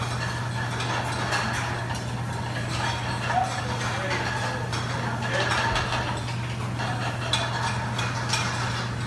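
Pad thai being stirred and tossed in a pan, with a steady run of scraping and light metallic clatter over a constant low hum, close by and fairly loud throughout.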